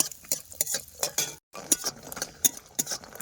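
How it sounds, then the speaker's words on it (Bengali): Lentil dumplings (bori) frying in hot oil in a wok, with a steady crackling sizzle and repeated scraping, clinking stirs of a utensil against the metal pan, close up and briefly interrupted by a short silence. "এই তেলের মধ্যে কিছু বড়ি দেবো, বড়িগুলো ভাজা করে নেব"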